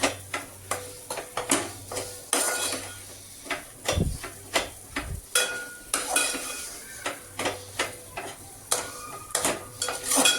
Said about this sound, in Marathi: ती घालायची आहे आणि चांगलं मिक्स करून घ्यायचं आहे